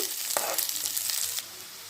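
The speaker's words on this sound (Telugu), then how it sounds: "ఆనియన్స్ వేగిపోయిన తర్వాత వీడియోలు చూపించిన ఈ ఇంగ్రీడియంట్స్ అన్నీ వేసేయాలి వేసేసి బాగా కలుపుకోవాలి" Onions and spices frying in a pan while being stirred, giving a close, continuous sizzle with a few scraping strokes of the spoon over about two seconds, with no voices.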